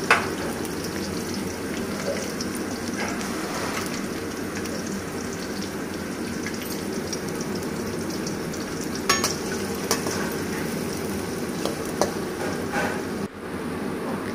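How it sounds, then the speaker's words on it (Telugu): Finely chopped onions fry in a pan while stirred, a continuous close sizzle with scattered scraping and clinking from the spoon against the pan, ending in a brief knock. "ఆ తర్వాత సన్నగా తరిగిన ఉల్లిపాయ ముక్కలు వేసి బాగా కలపాలి"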